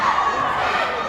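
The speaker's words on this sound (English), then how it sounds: "You can hear the crowd and the cheerleaders" Crowd and cheerleaders cheering at a women's college basketball rivalry game between Jefferson College and Mineral Area, a brief burst of loud shouting voices filling the gym.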